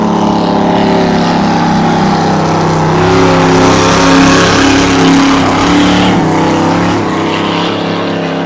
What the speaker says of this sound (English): I've got him doing time runs, trying to get the feel of the rate of acceleration of the boat